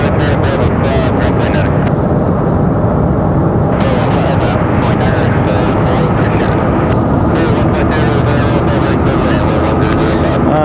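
An Aeromexico airliner from Mexico City at Raleigh-Durham International Airport gives a loud, steady broadband engine roar that fills the whole stretch without letup, with no talk heard.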